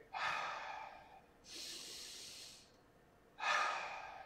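Pilates breathing: three slow, audible breaths, an inhale through the nose, a long airy exhale, then another inhale, each lasting about a second, close and clear against a quiet room.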